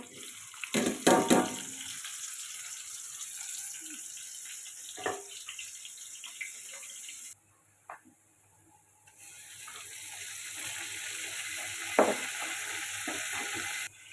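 Onion frying in oil for a duck meat curry, a soft continuous sizzle with a few clinks and stirring scrapes, briefly cutting out midway before resuming at low level; no talking.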